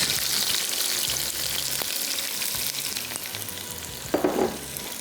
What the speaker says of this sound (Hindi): और प्याज को किया फ्राई। अब इस टाइम तक फ्राई करेंगे जब तक ये ब्राउन ना हो जाए।